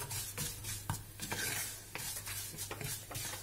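Rice and vermicelli browning in a hot pan, stirred with a utensil: rhythmic scraping strokes over a soft, continuous sizzle, close and fairly loud, with no talking.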